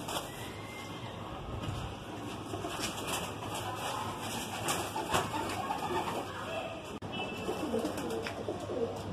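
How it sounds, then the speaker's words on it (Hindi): A female Madrasi pigeon coos softly against a steady, noisy background hiss, its low burbling running through the scene without any talk. "ये देखिए माशा गुटरने लग रही है"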